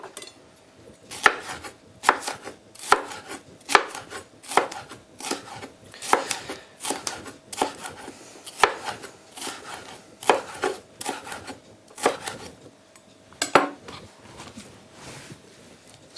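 A knife chops a red bell pepper on a board in a steady, fairly quick series of sharp knocks spread across the whole stretch, close and distinct, with brief pauses and no talking.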